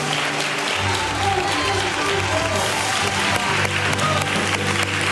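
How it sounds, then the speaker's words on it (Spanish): Studio audience applause for a carnival group on a Spanish television show, sustained clapping from a crowd with a low tonal hum beneath and faint voices mixed in. "Así que un aplauso para ellos."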